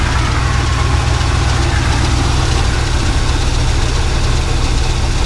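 A Volkswagen dune buggy engine runs loud and steady up close, a rough low rumble with a knocking idle that holds without a break and has no voices over it.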